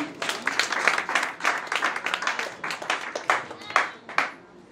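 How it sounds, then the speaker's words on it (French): An audience claps for a graduate called to the stage at a beauty institute graduation ceremony, the applause steady and lively for several seconds, with a few voices and cheers mixed in. "Dana Desanges, que je vous demande d'applaudir très fort"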